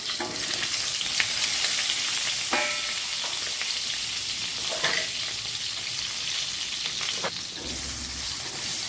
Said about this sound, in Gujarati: અને હવે આપણે આને તળવા દઈશું આવી રીતે।